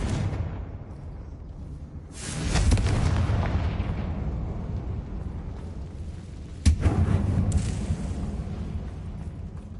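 Two booming Confringo fire-spell explosions go off in Hogwarts Legacy, each a sudden loud blast with a rumbling roll-off, spaced several seconds apart over a quiet low background.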